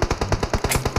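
Rapid burst of about nine gunshots from a firearm in the battle royale video game PUBG Mobile, evenly spaced and sharp, close and fairly loud with no talk over them.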